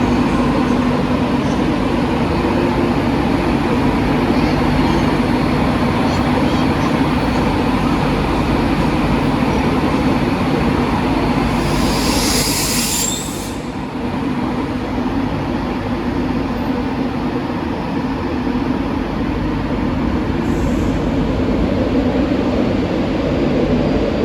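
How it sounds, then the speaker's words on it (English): Electric locomotives pull out of a station on a British loco-hauled passenger service, a loud, continuous roaring rumble that holds steady throughout, with a brief hissing burst partway through. "Despite being electric, these locos certainly make some noise as they leave."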